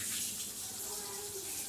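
Water splashes into chicken curry in a pan with a brief, soft, steady pour, fairly faint and close.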